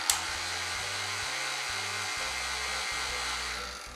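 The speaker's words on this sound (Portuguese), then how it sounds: "Volta a bater em velocidade média." An electric mixer beats diet panettone batter at medium speed, producing a steady close motor whine with faint shifts in pitch throughout, loud and unbroken, with no voices.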